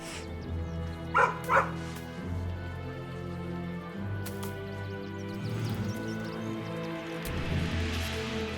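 A dog in the Baldur's Gate 3 video game gives two short, sharp barks close by, over a low droning game music bed with no speech.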